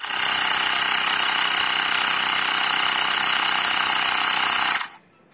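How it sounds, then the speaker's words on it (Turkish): A Xiaomi electric air compressor pumps air into a scooter tire, a loud, steady buzzing drone running nonstop for nearly five seconds before cutting off abruptly, close by with no talking. "Ve ortadaki tuşa bastığımda hava şişirmeye başlayacak."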